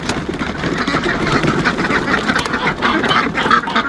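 Homestead ducks quack loudly in the morning, a busy, overlapping chatter of calls close by that continues without a break.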